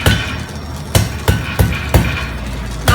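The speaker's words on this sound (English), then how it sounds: "I'm not lifting the hammer quite as high now because this is a little bit more fine-tuned work" Hammer blows forge hot metal on an anvil, drawing out the piece and knocking down its corners: about five sharp, ringing strikes in an even, unhurried rhythm, close and prominent.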